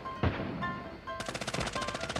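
KSP45 gunfire in a first-person shooter, a single loud shot followed by a rapid close burst of evenly spaced rounds over game ambience.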